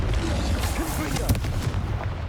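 A Confringo fire-blast spell in Hogwarts Legacy, heard as a dense run of booming blasts and crackling impacts, loud and close, with game voices mixed faintly underneath.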